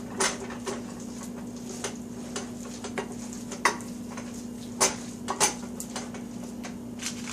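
A spoon stirs seasoning into cooked rice for onigiri, making soft close scraping and scuffing strokes with a few brighter clinks against the bowl over a low steady hum.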